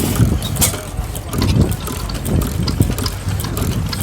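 A Hornsby stationary engine runs at a steam and vintage engine rally with a steady, close, thumping idle rhythm. It carries on without pause over the outdoor background.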